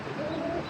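Male China Khaki pigeon giving a short, low cooing call, soft and close, over a faint background hum.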